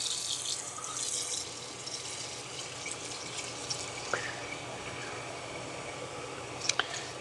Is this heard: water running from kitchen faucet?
yes